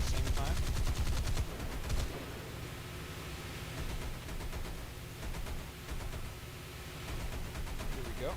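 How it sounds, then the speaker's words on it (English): Heavy naval guns of a warship in War Thunder fire in a loud, dense volley at the start, with gunfire rumbling on under continuous game noise and talk. "You're gonna have to wait a little for all 3 guns to align so they can all fire at the same time"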